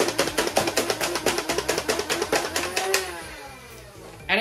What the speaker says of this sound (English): You rev the blaster, and then it's semi-automatic.